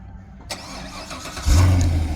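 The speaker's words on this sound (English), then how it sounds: "then it fires up the engine." A Corvette C7 Stingray, already warm, is remote-started: a sharp click, then the engine cranks and catches at about 1.5 seconds into a steady, loud low rumble at idle, with no voices.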